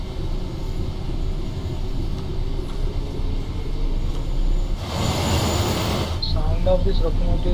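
Class 66 EWS diesel locomotive hauling a cement train in Train Sim World 4, a steady loud engine drone and rolling rumble throughout, swelling briefly in a broad hiss midway.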